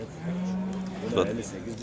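A calf at the Kırıkkale livestock market gives a low drawn-out moo, clear and fairly close, with people talking around it.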